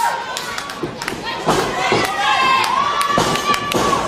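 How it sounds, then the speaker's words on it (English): Heavy body thuds from kicks landing on a wrestler during a 2011 IWC independent wrestling show, a few dull impacts ringing out over a steady roar of arena crowd noise and cheering. "You can hear the thud."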